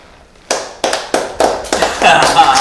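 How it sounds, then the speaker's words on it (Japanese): A short round of hand clapping at the end of a spicy Peyoung noodle eating challenge, several sharp close claps in a quick uneven series that build into a brief burst of applause from a few people. "拍手でもして終わります？"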